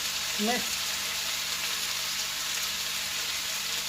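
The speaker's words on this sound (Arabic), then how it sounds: "من بعد ما كتسخن لينا الزيت كنلوحوا هاد البصل" Two large sliced onions dropped into hot oil hiss with a loud, even, continuous sizzle up close, and a brief voice is heard near the start.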